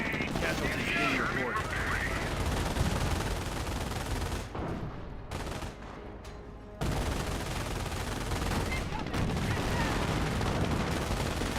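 Sustained MG42 machine gun fire in Company of Heroes battle, dense continuous rattling bursts with a brief lull midway before the firing resumes, heavy and close.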